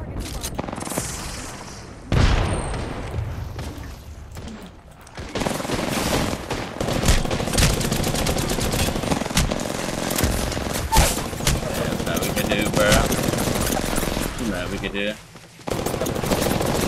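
Rapid automatic gunfire from Apex Legends, played on console in a Diamond-rank match, crackles in sustained bursts with booming impacts, loud and close for most of the stretch, with brief pauses near the start and end.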